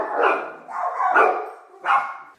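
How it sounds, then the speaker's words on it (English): Several dogs bark hard at a package delivery, three loud, close barks in quick succession with short gaps between, no talking over them. "so that's why the dogs were barking, going crazy"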